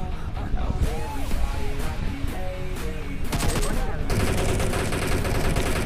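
Rapid automatic gunfire from the video game PUBG Mobile, a dense stream of close, loud shots rattling continuously, with game music and effects mixed underneath.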